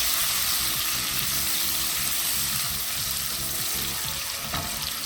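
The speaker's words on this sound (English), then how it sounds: "I'll add some onions so that we can fry our pepper." Onions and pepper frying in oil in a pot for chicken stew: a steady, dense sizzle with soft crackling throughout, close and even in level.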